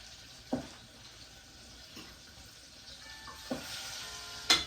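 Spicy pig tails deep frying in an old deep fryer, a steady broadband sizzle with a few sharper pops and crackles bursting out over the continuous hiss.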